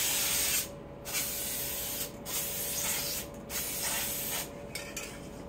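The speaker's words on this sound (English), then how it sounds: "So let's go ahead and spray the activator." A spray can of hydro dipping activator hisses in four steady bursts, each about a second long, separated by short pauses, close and fairly loud.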